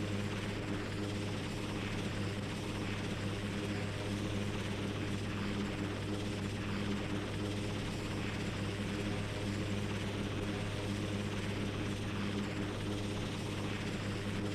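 Steady, loud helicopter noise on a helideck fills the whole stretch, a constant engine whine with the rapid thudding pulse of spinning rotor blades, close by and unbroken.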